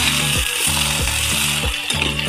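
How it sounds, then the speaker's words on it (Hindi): Okra frying in an oil-coated pan for a bhindi masala, a bright continuous sizzle overlaid by a repeated rhythmic scraping as it is stirred, loud and close with no voices. "अब हम इसमें ये वाली भिंडियाँ डाल देंगे, ये फ्राई कर लेंगे"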